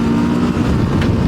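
Kawasaki KLE500 adventure motorcycle engine running close by, a steady loud drone with a brief rise in revs near the end, no talking.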